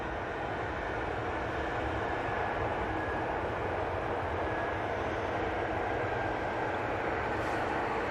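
An SAS Airbus A320neo touches down at Manchester Airport as a steady, broad roar of engine and rushing air that holds loud and even throughout, with no talk over it.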